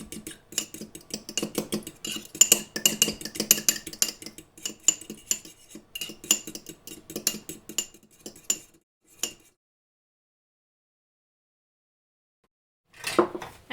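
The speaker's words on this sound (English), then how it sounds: "I've got some egg, salt and milk in there. Just going to mix this together." Egg, salt and milk whisked together for an egg wash, a fork or whisk clinking rapidly against the bowl for about nine seconds, then silence before a short final burst of scraping.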